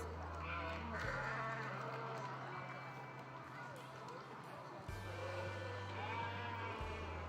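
Fall ewes bleat in the show ring at a junior livestock show, sheep calls rising over a humming hall while an announcer speaks over the loudspeaker.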